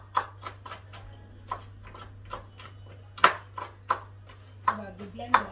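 A knife chopping ingredients into small chunks for an oats breakfast smoothie: a close, steady series of sharp taps on a board over a low constant hum, with no talking.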